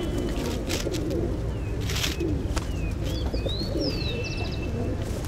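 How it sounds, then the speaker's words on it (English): Pigeons coo and chirp in a busy city square where corn is sold to feed them, soft calls scattered over a dense, steady wash of crowd and street noise. "the main reason why we see so many pigeons here is because that they're selling corn"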